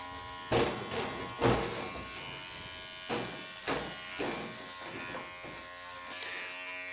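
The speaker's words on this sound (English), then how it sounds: "I think it's nearly time to get a new set of clippers." Electric clippers, getting blunt, buzz steadily while trimming a terrier's fur, with several soft thumps and bursts of louder contact as the blades work through the coat, close by and without talk.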